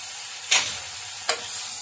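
Ginger garlic paste sizzles in a frying pan for egg korma, a soft steady frying hiss with two brief sharp stirring scrapes, close by.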